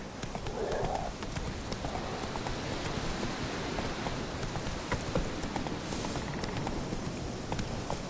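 The horse Roach galloping in the video game The Witcher 3, with a dense, steady hoofbeat rhythm over constant ambient game noise and a brief whinny near the start.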